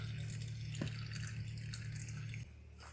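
Tap water runs steadily over food held in a strainer in a home kitchen, a close, constant hiss of flowing water with brief drips and splashes that cuts off near the end.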